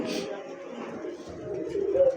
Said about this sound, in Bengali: এখানে এরা নতুন কবুতর